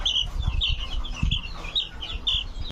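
A young Sweater gamefowl chick gives a steady run of high, thin peeps and soft clucks, repeated about every half second over low rumbling handling noise.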